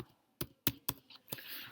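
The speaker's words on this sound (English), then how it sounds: "I've typed rhino" A computer keyboard is tapped in a few sparse, distinct keystrokes, close and fairly quiet, ending in a short cluster of lighter clicks, with no talking.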